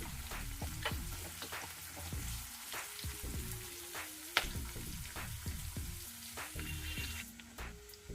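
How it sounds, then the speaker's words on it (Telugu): Ginger garlic paste frying in a pan for a masala ivy gourd curry, a constant crackling sizzle like rain on a surface, with soft stirring scrapes throughout, close and moderate in level, no speech. "ఇది వేసుకొని ఇలా కొంచెం పచ్చి వాసన పోయే వరకు వేయించుకోవాలి."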